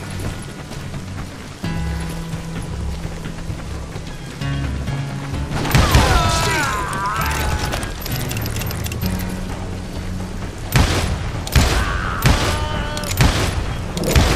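Repeated gunshots crack and boom during a Wild West shootout in Call of Juarez Gunslinger, some close and loud, others farther off, over a busy background of music and effects.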